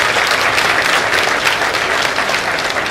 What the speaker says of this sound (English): let us all give them a big huge applause.